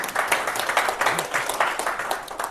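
An audience claps in rhythmic unison at a smart forum lecture, a steady run of sharp, even beats lasting a few seconds, fairly loud and close with no talk over it.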